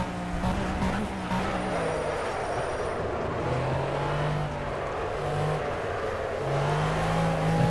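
A McLaren F1 GTR Long Tail in the racing game Project Cars, its engine roaring steadily and loud, the pitch climbing through the gears under hard acceleration, with tyre and wind noise beneath and a few brief voice fragments.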